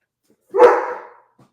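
A dog lets out a single sharp bark indoors at a squirrel outside, loud and close, with a brief ragged tail and a faint sound afterward.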